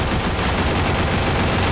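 Sustained rapid MP5 Samurai Rồng fire in the Free Fire zombie defense mode, a loud unbroken stream of close shots running throughout without speech.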